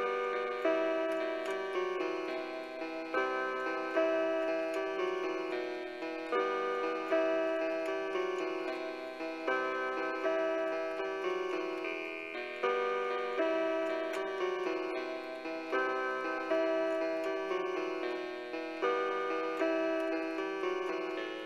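A piano plays the chorus of a song straight through, a steady, evenly repeating chord pattern with clear, regular note attacks and no voices.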